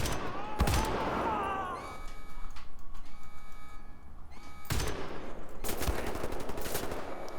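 Enemy shotgun fire in the video game Wolfenstein: The New Order: several loud, sharp blasts spaced seconds apart amid continuous rattling gunfire and combat clatter, heard without talk.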